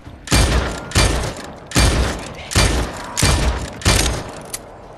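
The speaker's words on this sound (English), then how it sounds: "I'm just wasting bullets on him." Six heavy gunshots fired at a zombie in Dead Island 2, loud and close, evenly spaced about a beat apart, each a broad booming blast with a short decaying tail.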